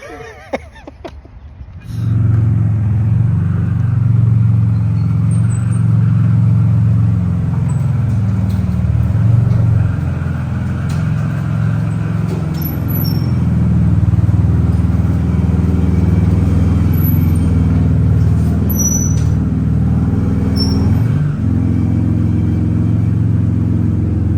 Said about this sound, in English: we are rolling home in the dually